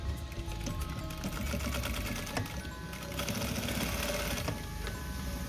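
A sewing machine stitches an outline on handbag lining, giving off a steady fast mechanical whir and clatter that runs continuously, close and moderately loud.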